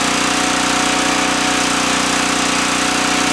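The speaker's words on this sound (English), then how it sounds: "I'm just going to let it run a little bit and let it drain its own bowl" A Champion 1500 generator that has trouble starting runs its small engine steadily, with a loud, close, rapid mechanical chatter and no voices.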